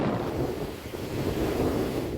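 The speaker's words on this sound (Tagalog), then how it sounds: "Halos 2 metro naman ang alon sa Sabangan Beach, Alawag, Ilocos Norte" Near-two-metre surf pounding Sabangan Beach in Alawag, Ilocos Norte, during a super typhoon, a continuous heavy low roar mixed with gusting wind buffeting the microphone.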